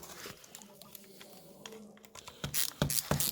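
A bolt on a brake caliper is being loosened, with a few sharp ratcheting clicks and metallic taps growing louder toward the end over a quiet workshop background.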